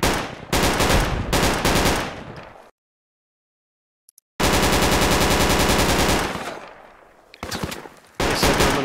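Automatic gunfire in the Project Reality military shooter game: loud, close machine-gun bursts, a long rattling stream, a brief silence, then another sustained burst and a final short volley.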